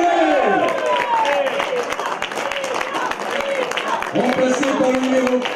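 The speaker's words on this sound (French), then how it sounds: "Sortie sous l'applaudissement du numéro 7" Football crowd at a USSU versus SR Colmar match applauding as number 7 is substituted off, continuous stadium clapping and crowd noise under a commentator's voice.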